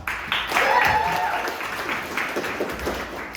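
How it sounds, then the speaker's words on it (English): An audience at a live comedy improv showcase applauds, a burst of clapping that rises quickly, then thins and fades over a few seconds, with a voice briefly audible over it. "Let's give her a round of applause."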